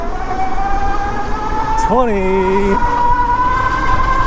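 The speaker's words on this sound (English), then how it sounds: "Man, that motor makes so much noise." A Tuttio ICT e-bike motor at full throttle on an incline whines with a steady high-pitched electric tone throughout, while someone speaks briefly partway through over wind and road noise.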